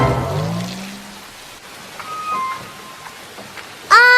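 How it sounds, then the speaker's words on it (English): Steady rain hiss falls throughout a farm animal bedtime story, with a soft musical note sliding at the start and a brief bright chime near the end, no talking. "Go away, rain, said Cow"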